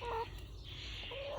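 Backyard chickens give two soft, short clucks at either end of a quiet moment, close by against faint background hiss.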